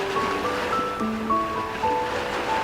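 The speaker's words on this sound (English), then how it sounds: "why do I hear waves on your end?" Ocean surf washing steadily in the background of a phone call in the video game Love and Deepspace, a constant rushing wash with faint tonal music layered over it.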